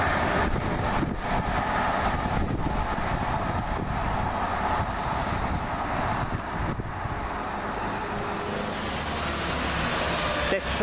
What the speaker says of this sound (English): Train out the 1505 Chiltern Railway service from Bicester to London Marylebone.